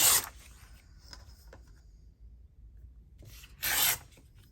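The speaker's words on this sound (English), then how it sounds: "And I am tearing, I'm not cutting." Book pages torn by hand come through as two short, crisp ripping bursts, one at the start and one near the end, with quieter rustling and handling sounds between them in a quiet room.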